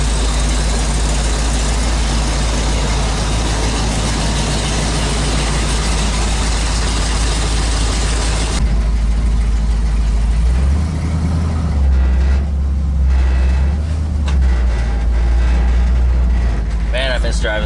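A 1972 Chevy truck with a leaking cooling system idles with a steady, loud low rumble, and a person talks over the engine near the start.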